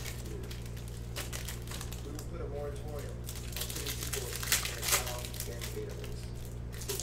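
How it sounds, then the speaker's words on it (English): Plastic trash bag liner crinkles and rustles in a steady stream across the whole stretch, with a couple of sharper crackles near the end, set against a constant low background hum. "Get a new trash bag liner."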